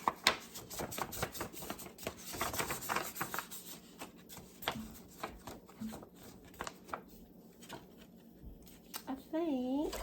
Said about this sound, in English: So I think I'm going to cut this a different way.